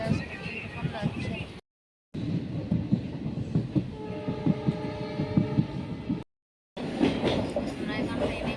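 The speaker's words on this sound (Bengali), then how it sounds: "পাহাড়ের নিচ দিয়ে ট্রেন যাচ্ছে।" A train runs through hilly country with a continuous rumble and rattle heard from on board. Its horn sounds a sustained blast midway, and people talk over the noise.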